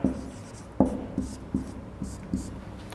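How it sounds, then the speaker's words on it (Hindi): Writing on a board during a class, a series of distinct taps and scratchy strokes at an uneven pace, close and clear against a quiet room with no talking. "उदाहरण मैं लिख रहा हूं यहां पर,"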